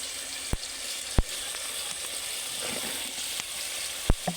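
Okra sizzles in a hot pan of cooked-down spices for a tilapia curry, a steady frying hiss with a few sharp clinks of a spoon against the pan, close and moderately loud, with no talk.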